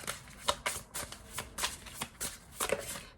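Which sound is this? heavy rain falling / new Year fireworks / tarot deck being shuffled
tarot deck being shuffled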